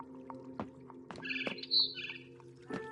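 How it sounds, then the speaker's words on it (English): A barn swallow's chirping in a video game, a few short bright tweets and a brief trill over a faint low background hum. "Then I heard chirping outside my window."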